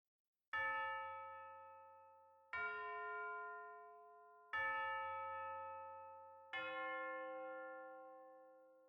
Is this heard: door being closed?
no